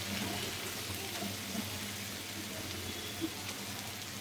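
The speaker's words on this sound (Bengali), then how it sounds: "আজকে আমি আসলে এই কচুগুলো ফ্রাই প্যানে ভাজবো" Taro pieces frying in mustard oil and coconut milk in a frying pan, alongside prawns, giving a steady, even sizzle and soft bubbling throughout, close up and moderately quiet, with a faint clink midway.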